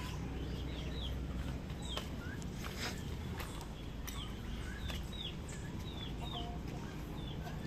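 Rhode Island Red chickens cluck and chirp in short scattered calls over a constant outdoor background hiss, with faint footsteps or scratching nearby and no talk.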